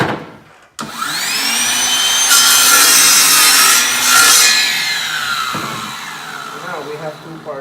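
A saw rasps steadily through wood cut for a floating canvas frame, loud and close for several seconds before trailing off into a few lighter scrapes and taps, with brief talk at the edges.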